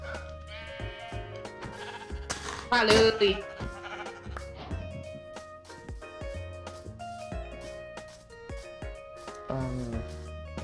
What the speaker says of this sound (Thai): เฮ้ยเจอแกะ